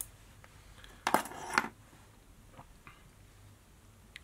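Two crisp, close snips of scissors cutting fly-tying materials while tying a Dirty Yellow Mayfly, half a second apart in a quiet room, followed by faint ticks and handling noise; no talking.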